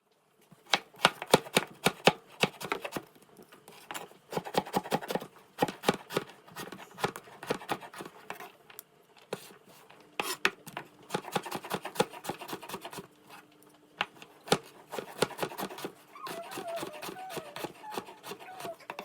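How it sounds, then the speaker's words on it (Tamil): Knife chopping peeled, washed beetroot into small pieces on a board, a run of sharp, quick taps in irregular bursts with pauses between, fairly close and moderately quiet. "இதை செய்கிறதுக்கு நான் ஒரு பீட்ரூட் எடுத்து தோலெல்லாம் சீவி கழுவிட்டு சின்ன சின்ன துண்டாக வெட்டி எடுக்க"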